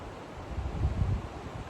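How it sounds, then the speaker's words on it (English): Low, gusty wind rumbling against the microphone, swelling in the middle and easing off, with no other sounds. "Gee, it's windy though."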